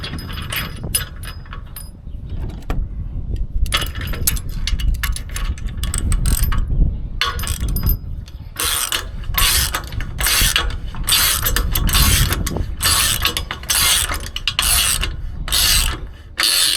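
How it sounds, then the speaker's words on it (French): A grain auger on a farm folding out into position ahead of harvest, giving off dense metallic ratcheting and clattering mechanical bursts that grow louder and more continuous over time, with no one talking. "C'est bon, la vis à grain du coup est dépliée."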